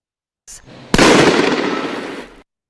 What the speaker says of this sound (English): it quickly reaches the failure pressure of plastic soda bottles. Just add some dry ice.